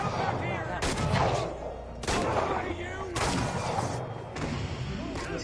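Loud bursts of video game gunfire come in four heavy, rumbling volleys spread evenly across the clip, with players talking over them.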